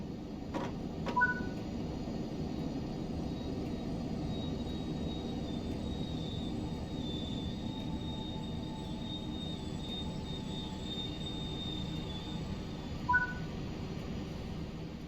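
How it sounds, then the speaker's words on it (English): Train braking to a stop in the Train Sim World 6 video game: a low steady rolling rumble with faint high brake squeals drawn out across the middle, and brief beeps near the start and end. "Bring the train to a stop now by applying the train brake."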